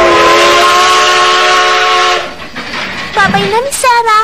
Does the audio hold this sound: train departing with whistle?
yes